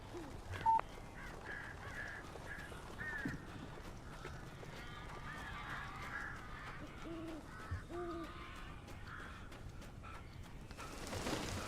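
Crows caw in a tense scene of the video game Alan Wake, giving scattered harsh calls over a dark, murky ambient bed at moderate distance, with no talk.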